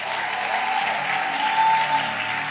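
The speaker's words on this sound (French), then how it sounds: "Est-ce que quelqu'un peut encore acclamer?" A church audience applauds steadily at an evening service, a dense, continuous wash of clapping with some cheering that holds at a fairly loud level throughout, no voices rising above it.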